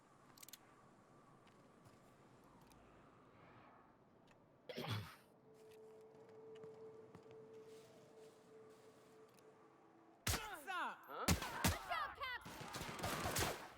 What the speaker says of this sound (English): Why did they start shooting?